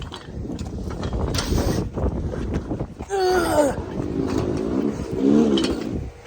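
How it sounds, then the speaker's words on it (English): A heavy suction hose for a manure spreader dragged across the ground outdoors on a windy, cold day, giving a continuous scraping rumble with squeaky, grinding bursts, close to the microphone under steady wind noise. "I'm just dragging a suction hose for a manure spreader."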